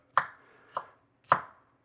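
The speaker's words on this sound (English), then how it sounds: "So I'm just going to chop this fine." A knife chops three times on a cutting board, crisp, close-up thuds at a slow, uneven pace.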